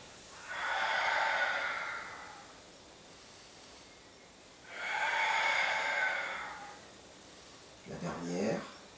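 Two long, breathy exhalations during a Pilates exercise, each lasting a couple of seconds with a pause between, followed by a short, sharper breath or snort near the end; close and fairly soft.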